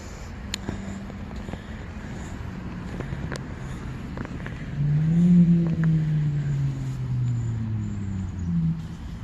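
Road traffic passes near a cemetery in Colchester, Vermont, with a steady vehicle rumble that swells loudly as a car goes by around the middle and then fades, under outdoor wind noise.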